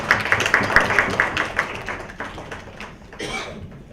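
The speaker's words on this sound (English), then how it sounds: "the quizzers on stage should give him a big round of applause" Scattered applause from a quiz show audience, a burst of claps that starts fairly busy and then thins out, fading into softer sparse claps near the end.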